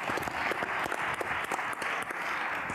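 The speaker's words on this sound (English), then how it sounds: "can we please give a big round of applause to the people that presented today?" An audience claps together for the presenters at a retail industry conference session, a dense, steady burst of applause.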